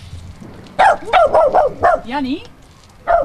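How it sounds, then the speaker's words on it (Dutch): A family dog barks in quick repeated yaps with a whimpering whine at a Dutch family's doorstep during a Christmas hamper delivery, and people talk nearby. "Een hond."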